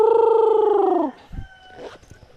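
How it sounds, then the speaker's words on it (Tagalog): A native rooster crows once, loud and close, a drawn-out call of about a second, followed by faint clucks and rustling. "Yung mga manok natin, mga kagapay na native nandito"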